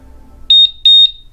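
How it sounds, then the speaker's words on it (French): A motorcycle alarm fitted to a Harley-Davidson Softail Standard gives its arming signal: two pairs of piercing electronic beeps, loud and close, with nothing else heard. "On a un premier bip pour indiquer en fait que l'alarme va s'enclencher"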